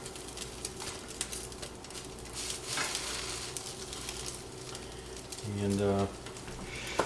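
Gravy browns and is stirred in a hot pan, a steady close sizzle with scraping stir strokes and a louder burst of frying near the end.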